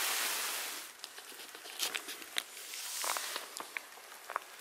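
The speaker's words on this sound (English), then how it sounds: "Starting to see the destination here as the rain comes down." Rain falls steadily in the Bob Marshall Wilderness with a soft hiss, scattered drops pattering and tapping close by on nearby surfaces, moderately loud with no voices.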